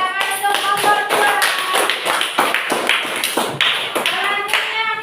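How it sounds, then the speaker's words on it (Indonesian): Classroom applause for a student group presenting in a teacher-training session, a dense burst of hand claps lasting several seconds, close and steady, with voices mixed in. "Oke, tepuk tangan untuk kelompok 2."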